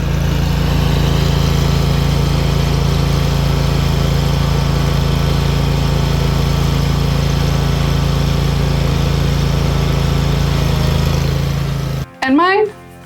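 A lawn mower engine runs steadily and loud throughout on a hot summer day in the yard, droning close up before cutting out briefly near the end.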